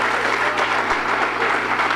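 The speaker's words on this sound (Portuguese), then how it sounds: "Vamos aplaudir ao Senhor, meus amados." A church congregation applauds together in a steady, dense burst of clapping that fills the whole stretch at close range, with no voices standing out.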